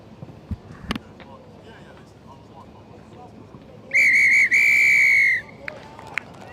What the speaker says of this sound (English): As soon as we hear the full-time whistle